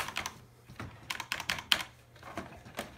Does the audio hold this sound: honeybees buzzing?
no